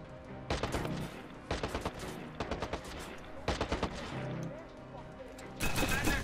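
A rapid-firing weapon fires in the video game Watch Dogs: quick bursts of loud gunfire, some close together and others separated by short pauses, with a voice heard among the shots.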